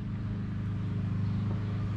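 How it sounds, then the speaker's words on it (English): A car engine hums steadily nearby, a low, constant rumble that holds at an even loudness throughout with no voices over it. "It's a car. It's coming."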